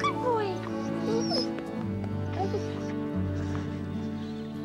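A dog whimpers and whines in high, wavering yelps, close by, over a steady background of music and a voice talking.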